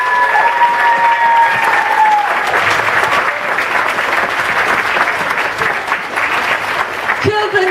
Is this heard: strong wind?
no